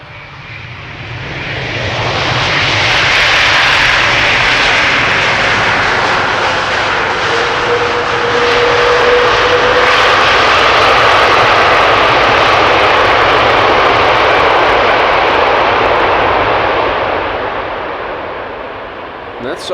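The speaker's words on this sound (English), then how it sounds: "That's some reverser use" A Delta Airbus A330neo, first flown in July 2024, lands at Amsterdam Schiphol and deploys its thrust reversers, producing a loud, broad jet roar that swells in and holds steady for most of the stretch before easing slightly.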